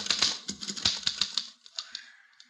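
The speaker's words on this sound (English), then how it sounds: "Here's a typewriter." A typewriter clatters with quick, irregular keystrokes, close and crisp, in a brief burst that slows and thins out near the end.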